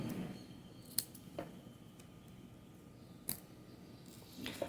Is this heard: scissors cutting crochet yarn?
yes